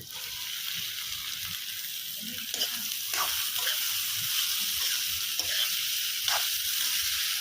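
Potatoes fry in a pan over a wood-husk stove with a steady, bright sizzle throughout, broken by occasional soft stirring clinks and scrapes, close and continuous without talk.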